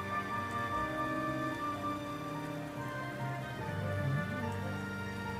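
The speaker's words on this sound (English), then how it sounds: "Nice rainy day." In-game rain from the video game L.A. Noire: a steady, soft patter falling on surfaces, continuous and fairly quiet, with sustained tonal background sound alongside it.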